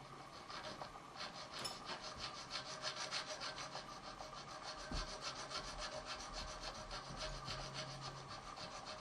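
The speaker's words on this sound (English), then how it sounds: "I start by first notching the top of the nut with one of my smaller files" A small file rasps back and forth across the top of a guitar nut, cutting a notch in continuous, quiet rubbing strokes with no talking.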